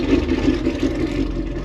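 A Ford S550 Mustang V8 engine idles with a lumpy, choppy rumble, steady and fairly close, no voices over it.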